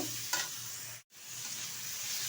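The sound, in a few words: stirring and frying dudhman kochu greens in a pan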